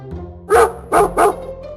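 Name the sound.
dog barking while chasing, cartoon story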